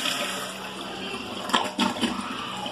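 A toilet with a Hydra Max flush valve is flushed, a brief rush of water after a quiet hum, then a short burst of gurgling, heard close with no talking.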